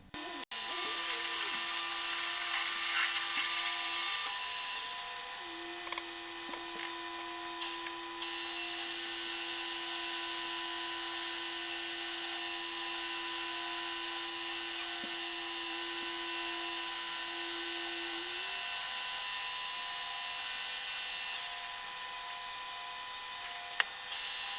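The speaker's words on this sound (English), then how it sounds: "this is drilling the hole out" A metal lathe drills out a hole to 38mm after a 16mm pilot, making steel alignment cones for line boring; a steady high whine with a sustained tonal hum runs throughout, loud and continuous with no talking.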